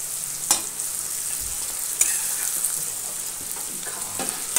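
Kachnar pickle with chillies being stirred in a pan for a Himachali recipe, a steady sizzling hiss with a few sharp scrapes of the spoon against the pan, close and continuous.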